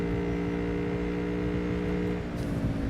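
A car in the video game Cyberpunk 2077 speeds along a highway with a loud, steady engine drone that holds for about three seconds, with a brief brighter hiss near the end.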